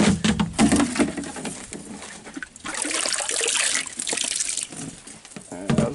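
Water runs and trickles steadily from a tap, a continuous splashing flow with a brief dip in the middle before surging again.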